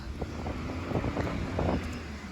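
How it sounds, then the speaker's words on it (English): Wind buffets the microphone, producing a low, gusty rumble that swells and fades in uneven bursts, with no talking. "Sorry, it's super windy."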